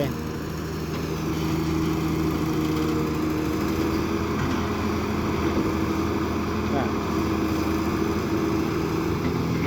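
A small engine runs steadily with a constant droning hum, fairly close, with no change in pitch throughout.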